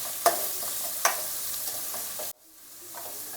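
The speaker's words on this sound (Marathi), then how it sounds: "कांद्याला छान ब्राऊन रंग येईपर्यंत भाजायचं आहे।" Three medium onions fry in a pan until brown, giving a steady close sizzle broken by a few sharp stirring scrapes, then the sizzle drops away abruptly and returns quieter.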